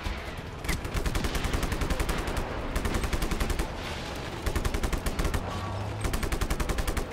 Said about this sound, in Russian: Чё в меня так стреляют?